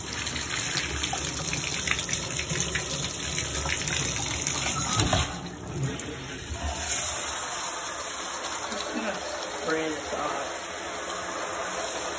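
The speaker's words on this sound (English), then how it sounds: "Turn on the water." Shower water running in a home bathroom, a steady broadband hiss of spray that carries through the whole stretch, with a person speaking briefly over it.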